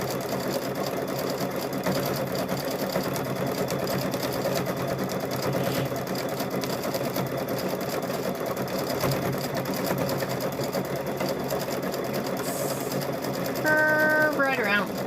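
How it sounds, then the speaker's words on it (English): A serger stitches along the edge of a fabric seam for a microwave bowl koozie, a steady fast mechanical whir running continuously up close, with someone talking over it. "So then I'm just going to sew right on the edge."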